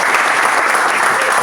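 Loud, dense applause from an audience at a year-end political rally in Argentina, steady clapping filling the whole moment without pause.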